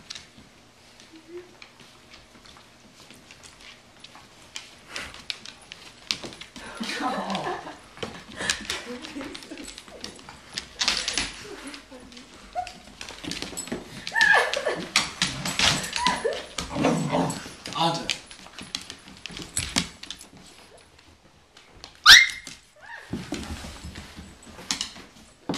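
Several dogs whimper, whine and give short yips in an excited greeting, close by and intermittent, with people talking warmly over them throughout.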